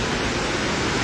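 The Sutlej River in full spate at Nogli near Rampur Bushahr, a dense, steady roar of rushing floodwater heard close and loud, with no voices.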